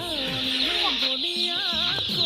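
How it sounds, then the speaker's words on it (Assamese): Broiler chicks at a broiler farm cheep and cluck continuously in a dense, steady chorus, with overlapping high chirps and no talk. "এই পোৱালি ব্ৰইলাৰ পোৱালি খাই আছে কেনেকুৱা"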